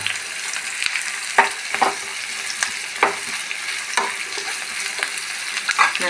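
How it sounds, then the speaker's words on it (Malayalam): Ginger, curry leaves and green chili fry in hot oil, giving a constant crackling sizzle with repeated spatula strokes scraping the pan every second or so, close and fairly loud. "പച്ചമുളക് നന്നായിട്ട് ഫ്രൈ ആവണം"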